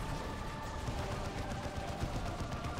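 Distant, steady suppressing fire from a heavy weapon squad in the strategy game Dawn of War 2: Retribution, a low continuous rattle of automatic weapons with muffled thuds, faint and unbroken throughout.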